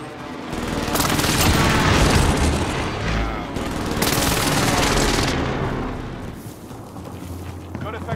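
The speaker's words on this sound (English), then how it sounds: "Call for fire. This is Phoenix 3. Strike inbound." Called-in airstrike explosions in a video game: several heavy, rumbling booms land close and loud in long rolling waves, with a softer engine-like drone lingering as they die away.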